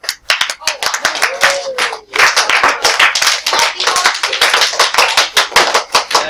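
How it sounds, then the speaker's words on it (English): A classroom of students applauds, giving loud, close, uneven clapping that briefly dips and then resumes for several seconds, with a voice heard faintly underneath. "Ladies and gentlemen, clap."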